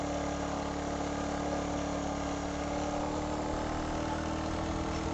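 A Royal Enfield motorcycle climbs a steep hill road toward Keokradong in first gear, its engine a continuous loud, dense drone that holds steady throughout with no talk.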